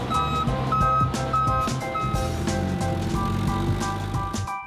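Heavy equipment reversing beeps at a Healdsburg winery in Sonoma County, a steady repeating tone held over a constant low engine rumble, moderately loud and with no voices.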